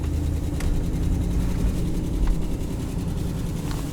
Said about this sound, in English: So you'll hear this manifold leak is nasty.